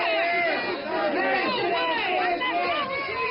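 Heated crowd at a city council meeting, many voices shouting and clamoring over each other continuously, loud and close, with overlapping raised voices throughout.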